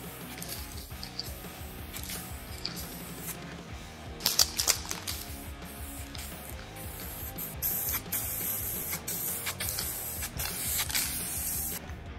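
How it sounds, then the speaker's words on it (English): A spray paint can is shaken hard and sprayed onto a car part between coats: short rattling clicks of the mixing ball alternate with close hissing bursts of spray, with no talk. "As you can hear, I agitate the can a lot between spraying."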